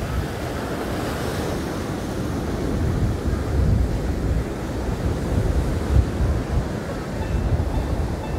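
Big ocean surf at Ngerawe beach in Gunung Kidul, Yogyakarta, roaring steadily and loud throughout with wind buffeting the microphone and no voices.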